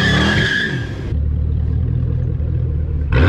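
At a car meet, a car engine roars loud and close as tires skid, then the revving drops to a steady rumbling idle before climbing again at the end.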